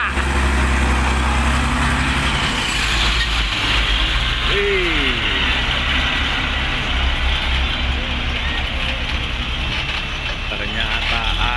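A Mitsubishi Tronton truck overtakes on the highway with a loud, steady engine roar and road rumble, heard up close from inside a moving vehicle while someone talks.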